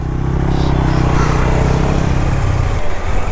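A motorcycle pulls away toward Salt Lake, its engine a steady, loud mid-range rumble throughout that thins slightly near the end as it moves off.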